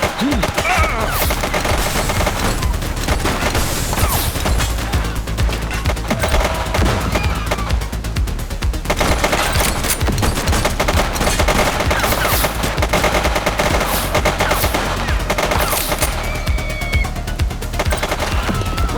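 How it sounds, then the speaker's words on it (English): Sustained automatic gunfire from a police shootout in the video game The Precinct, dense rapid bursts running loud and continuous throughout with brief gaps, crackling over a busy mix of game effects. "He's shooting! She's shooting!"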